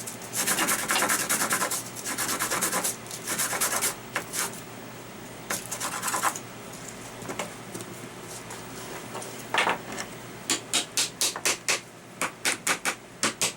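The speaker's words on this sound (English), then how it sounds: "now what we got to do is sand the edges down here" Edges of a PVC pack frame being sanded by hand, close scratchy rubbing in uneven bursts, ending in a run of quick, regular short strokes.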